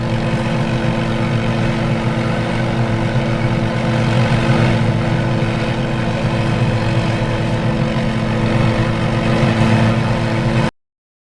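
A Shrike 530F helicopter in Microsoft Flight Simulator, carrying heavy guns, runs its engine at takeoff power: a steady, dense turbine and rotor drone holds at constant loudness throughout and cuts off abruptly at the end.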